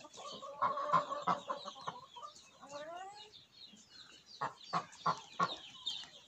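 Hens in a garden yard, with a duck nearby, clucking in quiet, close bursts of short repeated calls separated by pauses, with a rising drawn-out call partway through.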